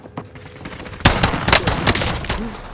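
Dense bursts of video game gunfire, rapid overlapping shots that start sparse and erupt loudly about a second in, then continue as a sustained close barrage.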